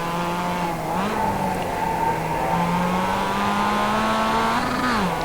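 Race car slowing in second gear into the Carousel corner at Summit Point, its engine holding a loud, steady droning note with brief pitch dips as the driver works the throttle, sounding close and continuous.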